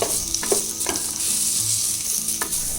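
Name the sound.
onion frying in a pan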